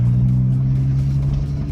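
A VR6 car engine drones loudly and steadily from close inside, a deep humming rumble with no voices over it.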